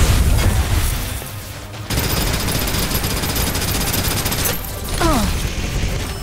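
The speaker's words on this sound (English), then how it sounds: "Suppressive fire." Rapid gunfire in the video game Snowbreak: Containment Zone, a dense sustained burst that breaks off briefly near the two-second mark and again later, loud and close with game effects mixed in.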